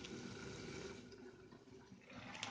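Water sprinkled onto chicken cooking in a pan for pepper chicken fry, a soft, steady sizzling hiss with faint watery crackle, fairly quiet throughout.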